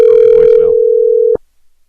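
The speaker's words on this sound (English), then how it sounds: "Is that an answering machine? I don't know. I think it's voicemail." A single steady telephone beep from a voicemail or answering machine, loud and close, holding for just over a second before cutting off into near silence.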